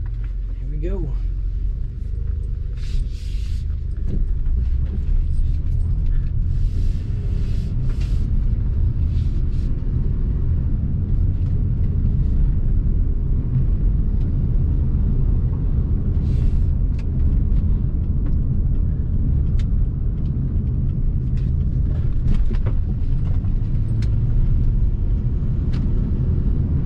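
A lowered 2003 Acura MDX driving on the road, heard from inside as a steady, loud low rumble of engine and tyre noise that holds without a break, with faint higher rattles now and then.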